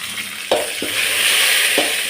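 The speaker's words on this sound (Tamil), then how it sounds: "காஞ்ச மிளகா, கருவேப்பிலை, இதெல்லாம் போட்டாலே போதும்." Dried red chilies and curry leaves, with onion, sizzle in hot oil while a spoon stirs them. A steady frying hiss runs underneath a few close scraping clinks.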